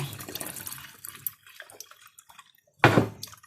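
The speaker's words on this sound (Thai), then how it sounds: "ตอนนี้เราก็จะมาเทน้ำลงไป" Water poured into a basin for a homemade rice-water microbe mixture, a short loud splashing pour near the end after quieter handling and faint background sounds.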